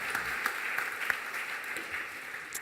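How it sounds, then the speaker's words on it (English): A room full of people applauding at a conference panel discussion, a steady patter of many hands clapping, heard from some distance and fairly soft. "give them a round of applause"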